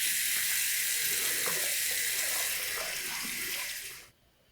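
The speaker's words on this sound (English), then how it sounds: "I'm going to move this section over so that the tap noise finishes before I start talking" A tap runs in a steady hissing stream, close and fairly loud, then cuts off abruptly near the end, leaving quiet room tone.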